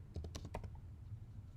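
A computer keyboard being typed on in a short burst of several quick clicks near the start, then a quiet hum of low room noise with no voices.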